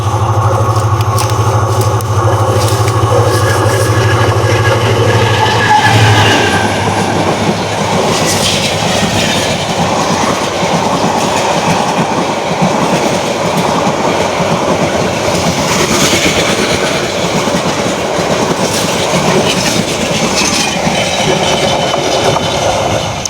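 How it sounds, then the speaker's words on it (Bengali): A train rumbles past close by along the route of a long walk on foot, a loud, steady roar of wheels and rattling wagons lasting the whole stretch with no voices over it. "এই যে ট্রেন চলে আসছে।"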